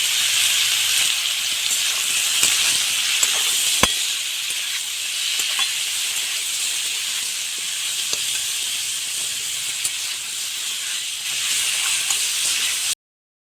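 Ridge gourd and potato fry in a pan with a constant, close sizzling hiss, broken by occasional soft stirring clicks, before cutting off abruptly at the end.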